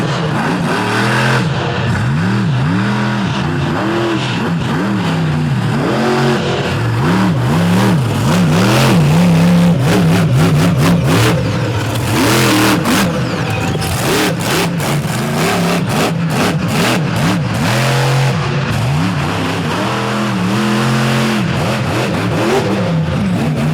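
A monster truck engine revs loudly and continuously, its pitch surging up and down in repeated waves as the truck accelerates on a beaten-down track, close and dominant throughout.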